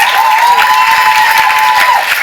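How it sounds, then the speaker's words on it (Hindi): An audience applauds after a stage performance, a dense steady wash of clapping from a large crowd. A sustained tone runs through most of it. "एक बार जोरदार ताली हो जाए इस wonderful performance के लिए।"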